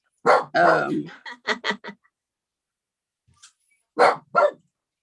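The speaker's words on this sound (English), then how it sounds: "Now you hear my dog." A dog barks loudly and close by, first in a rapid run of several barks, then silence, then two more barks.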